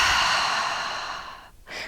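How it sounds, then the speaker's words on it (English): One long, deep breath out through the mouth during a slow yoga flow, close and soft, fading away, with a brief fresh breath just at the end. "And exhale it out."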